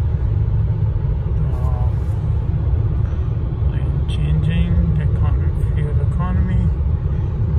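A 2017 Nissan Titan quad cab pickup with 37,000 miles idles smoothly, a steady low rumble running throughout beneath a voice talking over it.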